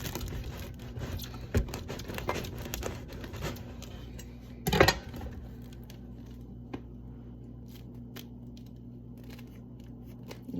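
A knife saws through the crust of a cooled sourdough loaf, a few quiet crisp crackling scrapes followed by one louder crunchy burst, then near silence with a low hum.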